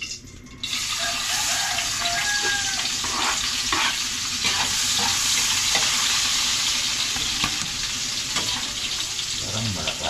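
Ginger, chili, onion and tomato sizzle steadily in a hot pan, with scraping stirs on top of the constant crackle; the frying starts abruptly and stays loud and close throughout.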